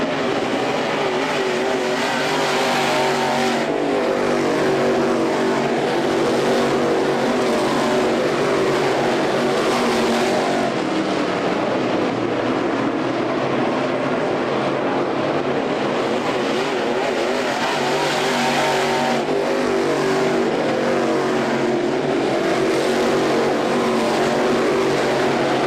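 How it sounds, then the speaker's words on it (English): Race cars at night heats of the Ocala Winternationals, a loud continuous roar of engines lasting throughout, with swelling and fading passes as the cars circle the track. "He's got about an 8-car length advantage over David Earl Gentry as Gentry tries to chase him down"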